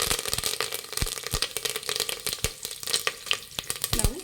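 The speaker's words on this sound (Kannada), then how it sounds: "ಎಣ್ಣೆ ಬಿಸಿಯಾಗಿದೆ, ಸಾಸಿವೆ ಹಾಕ್ತಾಯಿದ್ದೀನಿ. ಸಾಸಿವೆ ಸ್ವಲ್ಪ ಸಿಡಿಲಿ" Mustard seeds spluttering in hot oil while tempering for a sprouted horse gram sambar: a steady sizzle broken by many sharp, irregular pops and crackles close by.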